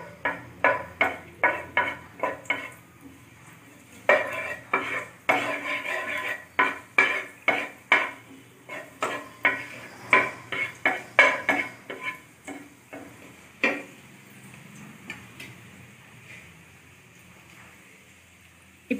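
Chopped garlic and ginger fry in a pot for barley soup while a metal spoon stirs, giving a long series of sharp rhythmic scrapes and clanks over a quiet sizzle, close and without talk.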